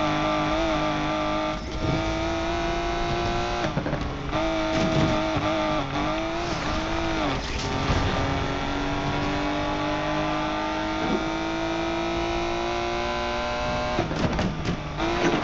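A 1997 Porsche 911 in the racing game NFS Unbound revs hard and continuously, its engine note climbing and dropping through sharp gear shifts. It stays loud and close throughout, with no talking.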